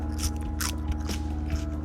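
Fresh snap pea bitten straight off the vine: a few crisp crunching chews in quick succession, close to the mouth, over low background hum.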